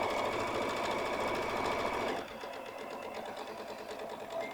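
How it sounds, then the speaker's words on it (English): A sewing machine stitches the corner of a Mylar embroidered spider bag, running fast and steady for about two seconds, then dropping to a slower, quieter rhythmic chatter. "we're going to sew the corner"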